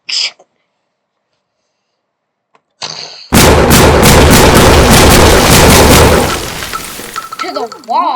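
A loud burst of shotgun fire in the video game Disassembly 3D erupts after a near-silent stretch with a couple of faint clicks, then roars for about three seconds before fading into softer game effects.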